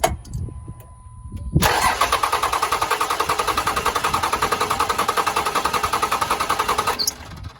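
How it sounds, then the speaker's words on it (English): A Cummins diesel truck engine with a failed injection pump cranks without starting, a loud, rapid rhythmic chugging from the starter that goes on for about five seconds and then stops, with a quieter tone before it begins. "go ahead and crank it. Just do it for like 10 seconds."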